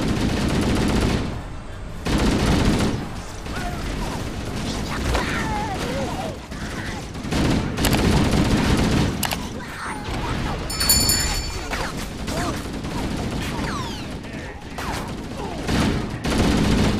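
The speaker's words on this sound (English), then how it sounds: "I'm being shot already!" Sustained gunfire from Halo: Combat Evolved plays as a dense fusillade of rapid automatic shots and bursts, loud and continuous across the whole stretch with crashes and mechanical clatter mixed in.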